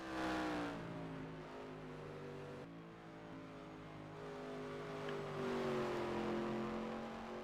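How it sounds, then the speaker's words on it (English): A sprint race truck's engine climbs in RPM partway through a turn at a USA Trucks West Evergreen Speedway qualifier, a steady harmonic drone rising in pitch over several seconds, fairly loud and continuous with no voices. "You can hear the RPMs pick up mid-turn."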